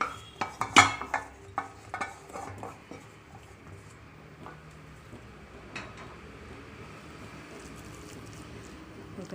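Semolina mixed with a spoon after tempering is poured in for an avalakki and fenugreek-leaf dish: a burst of metallic clinks and scrapes against the vessel early on, then sparse quieter stirring taps, no talking.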